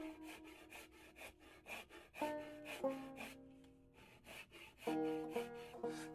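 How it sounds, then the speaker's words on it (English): Rasping strokes of a tool grinding shavings off koa wood for a banjo, repeated rhythmic scraping passes at close range, with pauses between bursts and faint tonal squeaks, no talking. "You like grinding shavings off of wood?"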